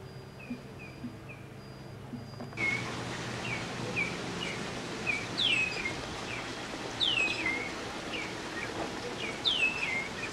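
Parrots and other birds calling outdoors in Cuba, a series of short chirps and rising whistled calls repeating at a moderate distance over a steady bed of insect and ambient noise.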